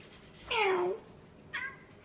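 A cat meows twice, a clear drawn-out meow followed half a second later by a shorter, higher one, close and fairly loud over a quiet background.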